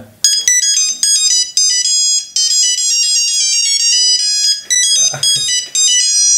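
A mobile phone ringtone chimes loudly and alone in a bright, repeating electronic melody with short gaps between phrases.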